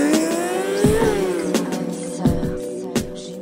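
A motorcycle engine revs hard as the rider does small, low power endos, loading the forks on the front brake. The tone climbs and dips between several sharp throttle blips, close and loud, with no talking.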